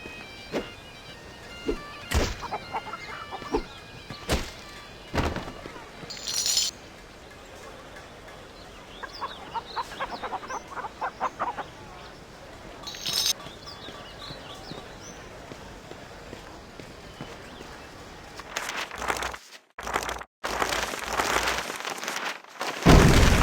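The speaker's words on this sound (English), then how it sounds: "I believe you may have killed the wrong chicken." Chicken clucks from the video game The Bard's Tale, heard as scattered short, quiet clucking bursts among game sound effects, sharp thuds and hooflike clops, ending in louder noisy action.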